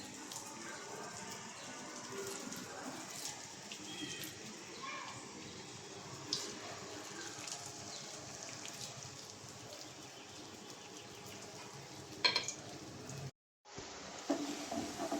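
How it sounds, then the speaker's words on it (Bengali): Lentil fritters (dal bora) deep frying in mustard oil give off a steady, soft sizzle and crackle that runs throughout, with a brief break near the end. "এখন বড়াগুলো দিয়ে দিব ডুবো তেলে।"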